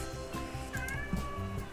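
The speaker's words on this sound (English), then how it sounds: "Meow!" A cat meows a few times in short, clear calls in a video game, against a low steady background hum, fairly close and moderately loud.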